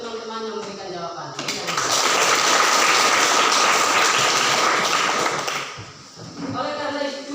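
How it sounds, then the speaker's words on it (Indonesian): Classroom applause from students, a dense burst of clapping that swells in after a voice, holds steady for several seconds and then fades as speech resumes. "Sebagian kita berikan tepuk tangan kepada teman-teman yang memberikan jawaban."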